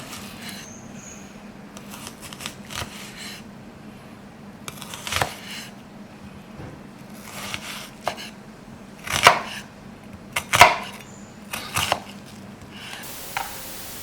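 A knife cuts into an onion on a board with scattered, close, soft chops, a few louder strokes and some light scraping, heard over a faint steady hum.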